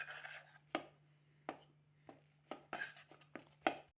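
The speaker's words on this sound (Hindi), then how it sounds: "अब हम इसे मैश कर लेंगे मैशर से" Boiled, peeled potatoes being mashed with a masher: a series of about nine separate soft thuds and knocks against the bowl at an irregular pace, each one near and fairly quiet.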